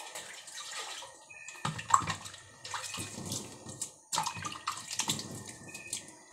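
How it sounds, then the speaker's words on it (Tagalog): Hands washed under a running tap, with close, splashing water that comes and goes in uneven bursts as the hands move through the stream; no talking. "Maghuhugas na po ako ng kamay."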